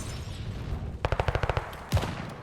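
A rapid burst of about ten automatic gunshots fires in a shooter video game at the hard point, followed by one more heavy shot, close and sharp against a low background rumble.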